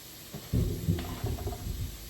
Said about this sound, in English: Y'all hear that thunder, right?